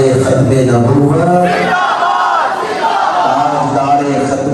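Young men at a Rabi ul Awal milad mehfil in Sialkot chant a religious slogan in unison. The loud, massed voices rise and swell together, with crowd noise carrying on afterward.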